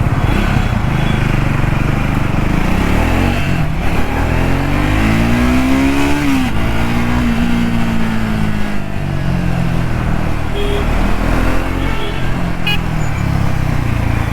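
A Triumph Speed 400 motorcycle engine revs up close, rising and falling in pitch through a few throttle blips over a steady loud idle, with no talking.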